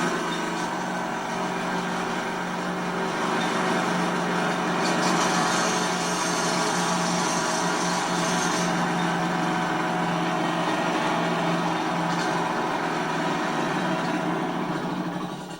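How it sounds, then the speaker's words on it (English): A pneumatic drill in a mine gives a loud, steady mechanical roar without a break, a harsh continuous engine-like rattle with a faint high whine above it. "let's fire up this pneumatic drill and see how loud it is"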